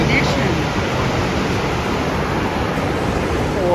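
Takakkaw Falls in a Canadian national park roars as a dense, constant broadband rush of falling water and river flow, loud and unbroken throughout, with no talk heard.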